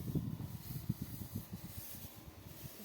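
A pesticide sprayer working over a watermelon field, giving a low, uneven hissing rush with rough pulses throughout, close and fairly quiet, with no voices.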